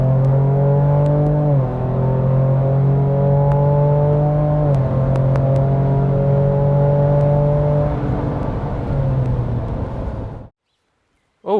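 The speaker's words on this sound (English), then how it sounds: "so that was a really interesting driving experience for the Ranger Raptor" Ford Ranger Raptor pickup heard from inside while driving, with a loud, steady engine drone that rises in pitch as it accelerates, drops briefly at gear shifts, and holds for about ten seconds before cutting off abruptly.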